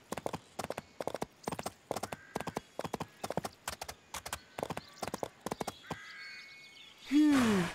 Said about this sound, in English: let's hit the trails and look for Lucky. Use the arrow keys on the keyboard to steer Barbie or the horse